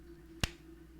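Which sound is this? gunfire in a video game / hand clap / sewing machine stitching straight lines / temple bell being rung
hand clap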